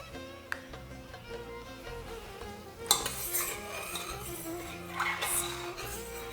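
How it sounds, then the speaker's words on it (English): Sugar is stirred into sherbet in a pot for a traditional Ottoman drink, with faint metallic clinks and scrapes of a utensil against the pot. Music plays in the background. "if you're using sugar, you have to keep stirring, making sure that it doesn't crystallize in the pot."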